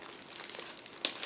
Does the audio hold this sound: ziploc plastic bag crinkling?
yes